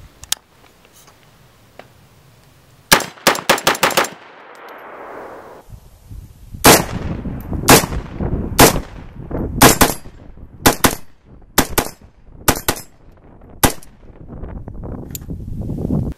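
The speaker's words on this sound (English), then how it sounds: "we were shooting this rapid and slow, and it was a very manageable recoil system" CMMG MK47 Mutant rifle in 7.62 with a 16.1-inch barrel fires outdoors, first a quick string of rapid shots, then single loud, close reports spaced out at a slower pace, each with a sharp crack and short ring.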